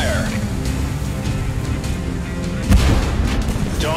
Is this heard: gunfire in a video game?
yes